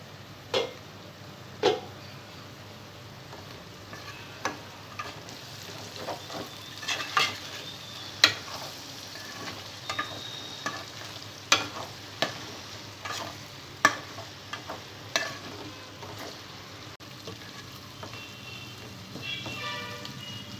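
Drumstick pieces fry in oil for an Andhra fish curry, a low steady crackle of hot oil broken by sharp ticks and pops of stirring or spattering, close and fairly quiet with no talking.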